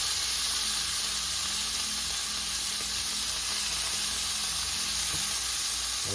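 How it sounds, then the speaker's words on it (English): Beef pieces sear in a hot pot for beef mechado, a loud, steady sizzle and hiss of frying meat that continues unbroken, with occasional faint stirring clinks. "Okay, sear them up. See? Heat them up real good."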